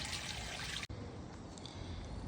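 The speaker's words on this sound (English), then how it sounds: "This is the stream coming into the Couper's Pond at Couper's Pond." A stream flows into Couper's Pond, a constant close rush and trickle of water, with a sharp cut midway after which the flow sounds duller and quieter.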